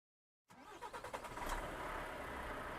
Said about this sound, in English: This is my Volvo truck.